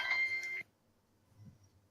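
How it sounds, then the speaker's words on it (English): A short phone notification tone chimes loudly for about half a second, then cuts off into near silence with faint background noise. "that was my phone"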